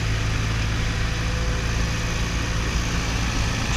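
Engine run-up of a 1961 Piper Colt light aircraft with brakes set, a steady, loud, close piston-engine drone with a constant low hum and no variation over the few seconds, without speech.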